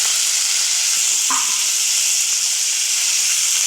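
Green chillies and curry leaves sizzle in hot oil as a tempering for dal. A loud, steady frying hiss fills the clip, with a brief crackle and pop when something drops into the pan.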